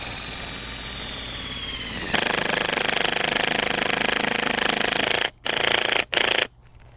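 Custom ground anchor peg screwed into the ground by a power driver, a loud steady grinding buzz that starts partway in and cuts out twice before stopping.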